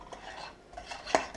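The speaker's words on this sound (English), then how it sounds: "I'm just mixing the sour cream into the rest of the batter, which will become our dough." A utensil stirs sour cream into cookie batter in a bowl, with soft scraping and a few light clinks against the dish, close and fairly quiet, and no voices.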